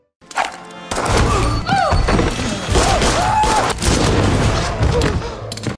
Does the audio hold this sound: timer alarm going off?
no